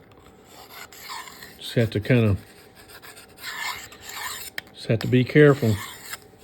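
A long knife is drawn through a small handheld sharpener, making close, gritty rasping strokes in short bursts. Someone talks between the strokes.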